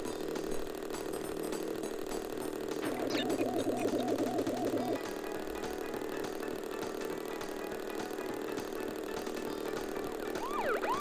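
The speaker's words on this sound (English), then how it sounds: "now we got the police cars driving towards us" Police car sirens in the Crash Bandicoot Warped video game, a wailing siren rising and falling for a couple of seconds over a steady game engine drone and music, fairly loud in the mix.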